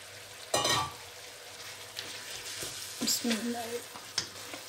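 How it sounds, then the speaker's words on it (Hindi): Washed minced meat (keema) sizzles as it fries in masala in a kadai, with a soft steady crackle and occasional stirring scrapes and clinks of the spoon against the pan. "यहाँ जो हमने कीमा धो के अच्छी तरह रखा है ये डाल लेंगे और इसको 15-20 मिनट के लिए भूनेंगे ताकि कीमा जो है अच्छी तरह भून जाए"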